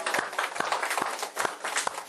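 Church congregation clapping together in a hall, a steady stream of dense handclaps with rhythmic accents, moderately distant and continuous throughout.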